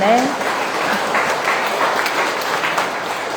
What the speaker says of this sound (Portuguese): Quero palmas para eles pela coragem